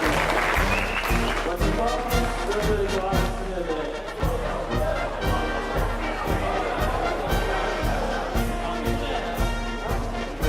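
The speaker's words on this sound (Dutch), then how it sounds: "Ik wil hier een applaus voor deze heer" At a shooting guild's reception evening, a crowd applauds a jubilee member of forty years, the clapping falling into a strong, regular beat over a low pulsing accompaniment.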